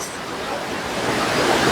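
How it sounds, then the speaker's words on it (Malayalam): A hidden waterfall pours over rocks in a steady, loud broadband rush, close and continuous with no voices over it. "അടിപൊളി ഒരു വെള്ളച്ചാട്ടമാണ് ഗൈസ്"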